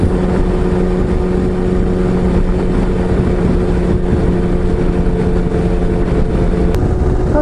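A motorcycle cruises at 100 km/h, heard from under a jet helmet as a loud, constant roar of wind and engine drone that stays steady throughout, with no speech.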